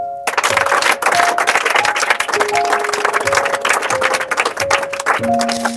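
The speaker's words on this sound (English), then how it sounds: "Please a big clap for him." Audience clapping for an anthem writer at a spoken-English class in Begusarai, Bihar, a dense steady patter of many hands lasting throughout, with sustained tonal musical notes running underneath.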